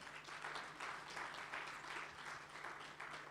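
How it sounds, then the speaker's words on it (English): A conference audience claps in bursts for a man asked to stand, with faint, uneven rhythmic applause over a low steady hum and no talking. "Can you, Hussein, stand up so they can give you a big applause, please?"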